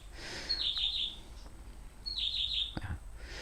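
Small birds sing in two short bursts of bright, high chirping trills, fairly close, with a faint low background hum and a brief knock between the phrases.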